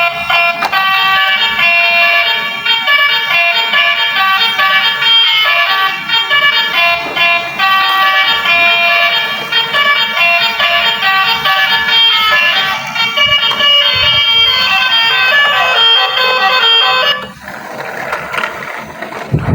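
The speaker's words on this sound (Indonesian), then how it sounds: "Coba kita nyalain truk oleng." A battery-powered toy wobbly truck (truk oleng) is switched on and plays a loud, continuous electronic tune with siren-like tones for about seventeen seconds before cutting off, leaving quieter background noise.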